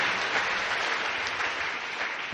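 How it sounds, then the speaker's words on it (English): A church congregation claps hands together in dense, continuous applause that fills the room, loud and steady with no voices standing out. "Clap your hands to Jesus."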